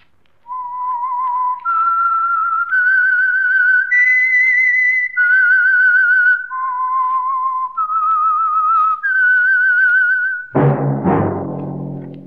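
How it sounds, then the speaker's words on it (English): A clear, melodic whistled tune of sustained notes stepping up and down, the opening signal of a 1948 radio drama, followed by a sudden low musical hit at the end. "That whistle is your signal for the Signal Oil Program"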